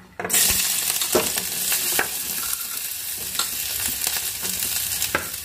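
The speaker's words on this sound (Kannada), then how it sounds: "ಉಳ್ಳಾಗಡ್ಡಿ ಒಂದ್ ಸ್ವಲ್ಪ ಮೆತ್ತಗೆ ಹಾಕಿದ್ವಿ. ಫ್ರೈ ಅದು ಉಳ್ಳಾಗಡ್ಡೆ." Onions sizzle and fry in hot oil with mustard seeds for a roadside-style egg Maggi, a steady loud crackle broken by several sharp stirring scrapes of a utensil against the pan.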